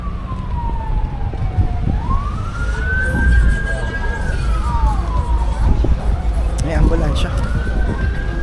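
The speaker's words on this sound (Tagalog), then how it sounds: "Ambulansya." An ambulance's wailing siren sweeps up and down over steady traffic rumble in Üsküdar, Istanbul, loud and nearby as it moves past.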